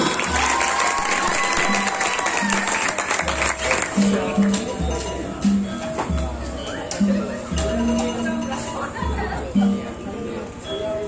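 Audience clapping at an Indonesian Lesbumi NU theatre event, a steady wash of applause with crowd chatter, rhythmic drumming and music running underneath throughout.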